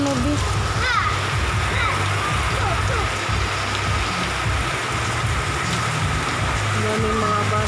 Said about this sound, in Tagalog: lumakas na po yung ulan dito sa amin.